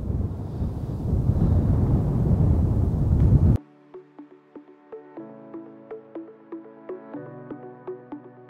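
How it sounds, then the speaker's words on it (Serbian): Strong wind buffets the microphone at a motorway construction site with a large bridge near Novi Beograd, a loud rumbling roar for about three seconds before it cuts off abruptly and soft plucked music takes over. "Nadam se da me čujete jer je izuzetno snažan vetar ovdje."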